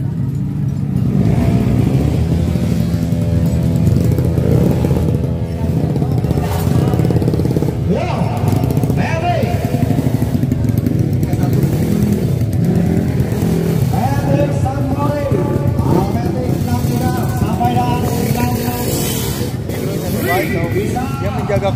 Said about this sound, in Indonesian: RB225 Racing bintang 3 meleduk-meleduk.